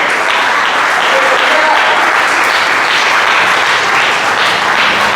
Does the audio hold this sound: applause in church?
yes